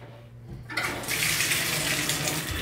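A quiet start gives way to tap water gushing onto tie-dyed fabric being rinsed, a steady splashing rush that holds until the end.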